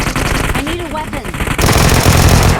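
Rapid automatic gunfire in the PUBG Mobile battle royale game, with loud dense bursts of shots that continue steadily and grow heavier, alongside other game sounds.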